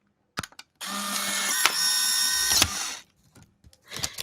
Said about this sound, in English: While the picture is coming out of the Polaroid, it actually has a pitch to the sound